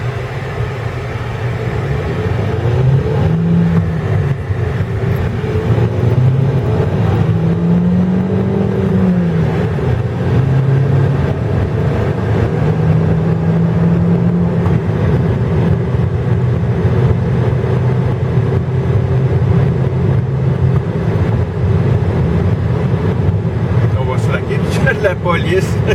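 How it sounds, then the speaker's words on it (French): A 2013 Dodge Dart accelerating on the road, with steady engine drone and rising, wavering tones from inside the car, continuous and fairly loud under ongoing talk. "le comportement routier et le comportement du moteur du véhicule en accélération"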